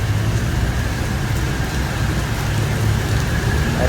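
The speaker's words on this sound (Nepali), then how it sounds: "पुरै पानी परिरहेछ।" Heavy rain falls in Malaysia, a dense, even hiss of downpour hitting surfaces that stays loud and unbroken throughout, with no talking.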